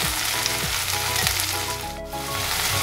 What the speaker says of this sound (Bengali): খুব ভালো করে নেড়ে দিচ্ছি